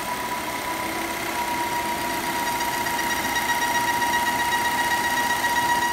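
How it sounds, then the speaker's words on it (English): A Volvo T5 engine idling steadily with a low growl from crankcase vacuum and a faint constant whine, continuous and fairly loud throughout, no voices. "a sucking or a growling noise coming from the engine of your Volvo T5"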